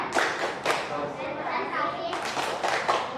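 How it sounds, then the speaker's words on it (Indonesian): A classroom of primary-school children claps a rhythmic focus clap, with sharp bursts of hand claps in short patterns mixed with children's voices and a teacher talking. "Berikan dulu tepuk fokus."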